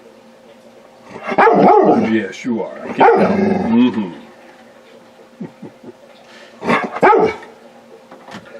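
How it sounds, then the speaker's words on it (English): A big, beefy dog gives a few deep, close barks and grumbling vocalizations in short bursts, with a person talking softly to it in between. "He's just a big, beefy dog."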